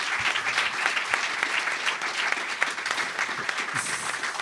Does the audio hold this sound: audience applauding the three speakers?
yes